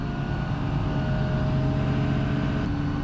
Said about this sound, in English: Of course we need to go ahead and give her a little bit of throttle